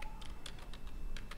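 Keystrokes on a computer keyboard as the word Australia is typed into a text box on a Google Drawings map, a quick run of light, close clicks in short bursts with brief gaps.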